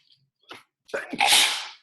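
A single person sneezes indoors: a couple of short sharp inhaled catches, then a loud explosive burst that trails off, standing alone without talk.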